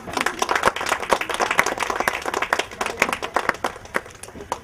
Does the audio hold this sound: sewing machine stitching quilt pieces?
no